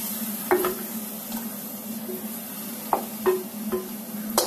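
A heavy pot of braising liquid for a pork hock comes up to a boil, with soft scattered bubbling pops over a low steady simmer, close by and alone.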